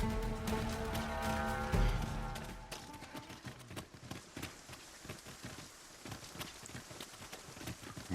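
Rain falling in the video game Dragon's Dogma 2, a steady patter of drops on surfaces that follows a short burst of musical tones, with scattered sharper taps throughout.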